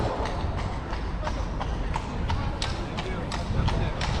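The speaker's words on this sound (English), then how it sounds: "I got a horse and carriage here?" Horse hooves clip-clopping as a horse and carriage passes near a castle, a regular run of sharp clops on hard ground, fairly close, with a voice talking over them.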